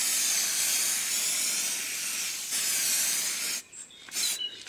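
A spray paint can hisses in a long continuous burst close by, then sputters into a few short spurts before stopping.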